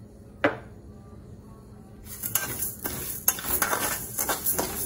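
Coriander seeds frying in a pan over a full flame: after a mostly quiet start with one sharp clink, a spoon begins scraping and clattering against the pan over a light sizzle.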